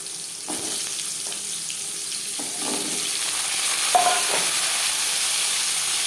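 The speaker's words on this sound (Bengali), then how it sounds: "15-20 সেকেন্ড জিরে তেজপাতা ভেজে নেওয়ার পর দিয়ে দেবো ডাটা।" Cumin seeds and bay leaves fry in hot refined oil, giving a soft, even sizzle that runs throughout, with a few faint scrapes and light clinks of a utensil and no voices.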